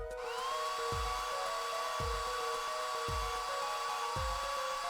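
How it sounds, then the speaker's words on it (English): Portable hair dryer drying plaster in the Apollo Justice video game, a steady high-pitched whir with a soft repeating thump about once a second, faint and continuous with no voices. "Drying up the plaster with the portable hair dryer."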